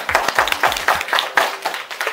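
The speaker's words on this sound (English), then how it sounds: "Give him a hand clap." Small audience gives a quick round of hand clapping at a magic show, a burst of sharp, fairly close claps in an irregular patter lasting a couple of seconds.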